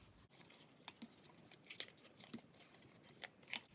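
Scissors snip through the end of a ribbon on a Christmas treat bag, giving a run of quiet, crisp close-up clicks and snips spread across a few seconds.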